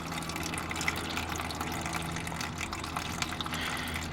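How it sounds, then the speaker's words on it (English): Old red coolant streams steadily from the radiator drain of a Toyota Yaris during a flush, a continuous faint trickling and splashing of liquid with no talk. "It's a good stream of coolant."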